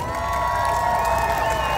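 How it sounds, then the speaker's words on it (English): A festive crowd at the Mango Melee fruit festival on St. Croix cheers and whoops, a dense, continuous roar of voices with some shouting children, loud and sustained throughout. "Give him a big round of applause."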